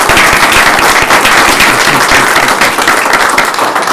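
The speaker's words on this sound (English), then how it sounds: "So I think they deserve a round of applause." A room full of people at a county commissioners' meeting claps loudly and steadily for about four seconds, dense overlapping hand claps with no voices above them.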